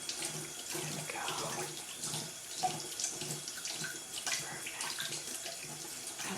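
Running tap water pours steadily close by during a fairy-themed spa treatment in which wings are rinsed, with splashing and shifting gurgles as hands move through the stream.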